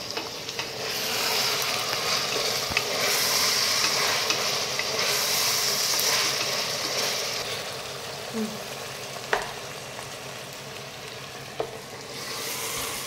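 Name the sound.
stirring carrots and capsicum in a pan with a spatula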